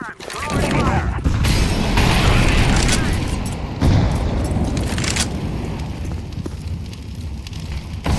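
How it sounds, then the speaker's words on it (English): In a Counter-Strike 2 match, a flashbang grenade goes off amid loud, dense game noise: a sharp bang at the start, then a sustained roaring wash of fire and gunfire that stays heavy and close throughout. "Throw in the flashbang."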